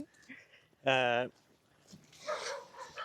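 A dog gives one loud, close bark or yelp, with quieter talk from people around it, outdoors at a glamping site.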